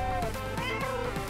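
Cartoon cats meowing in a children's animated show, several overlapping high, drawn-out mews rising and falling in quick succession over a steady background music bed.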